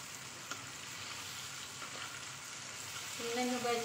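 Chicken pieces fry in hot oil for homemade Jollibee-style fried chicken, a faint, steady sizzle with a few small pops, and a voice joining briefly at the end.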